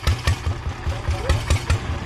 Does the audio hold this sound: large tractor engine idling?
yes